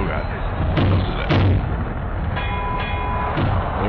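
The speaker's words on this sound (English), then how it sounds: "I hear glass and explosions." Explosions and shattering glass in an MDickie wrestling video game, a loud continuous rumbling blast with several sharp bursts rising out of it, heard alone with no talk over it.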